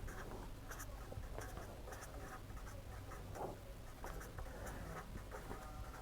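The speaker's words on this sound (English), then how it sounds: "So, I am going to write that over here." Chalk or pen writing on a board during a heat transfer lecture, a steady run of short scratchy strokes at close range with no talk over it.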